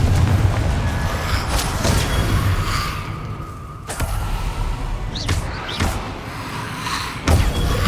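Spell combat in the PS5 game Hogwarts Legacy, a run of loud booming blasts and sharp cracking impacts over a dense rumbling game mix, with a few swooshing casts and no talking.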